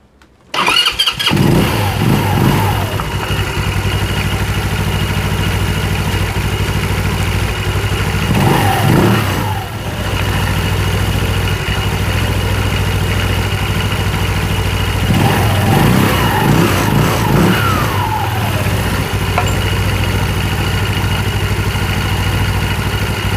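A scooter engine fires up after a fresh front and rear variator, clutch and drive-belt replacement, then settles into a steady, close idle that runs unbroken, with a couple of brief revs along the way and no talking.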